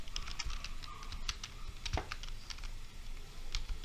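Fingers type on a computer keyboard at a Windows 11 PC, a quick run of crisp, close key clicks with small pauses, heard alone without talk.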